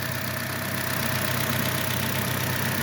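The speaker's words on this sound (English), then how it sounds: "with the motor running" A 2021 Toyota Corolla engine idles steadily up close, a smooth continuous hum with no breaks and no voices.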